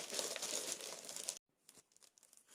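A plastic bag crinkles and rustles loudly up close while a DeLonghi Nescafé Dolce Gusto Jovia pod capsule coffee machine is unboxed, then the handling quiets to a few sparse, fainter crinkles.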